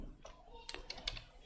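Light keystrokes clatter in brief bursts on a computer keyboard, faint and close, with scattered clicks and no voice over them.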